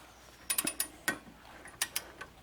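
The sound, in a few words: torque wrench tightening Corvette wheel lug nuts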